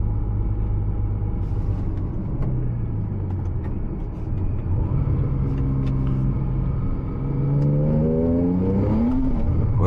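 Heard from inside the cabin on a night drive, a 700 hp Porsche Cayman 987 Turbo accelerates hard in third gear, a loud, continuous engine rumble rising steadily in pitch as it pulls.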